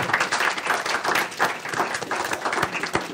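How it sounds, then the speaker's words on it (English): Audience at a meeting with former Formula 1 driver Emerson Fittipaldi breaking into dense, sustained applause, a full crowd clapping steadily without pause and no talk over it. "Clap the hands again."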